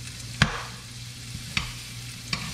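Small chopped onions frying in a pan for shepherd's pie sizzle softly and steadily, with three sharp scrapes and clinks of a utensil stirring at intervals.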